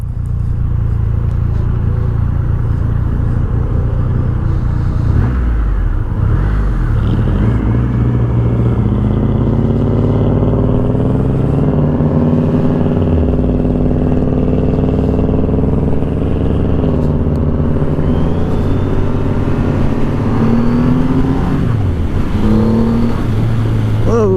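A Triumph Rocket III motorcycle engine runs loud and close throughout, its revs rising and falling in several swells with a deep steady drone underneath.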